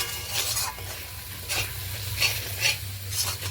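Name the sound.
spice masala being stirred and fried for fish curry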